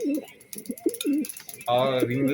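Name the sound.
Budapest racing pigeons cooing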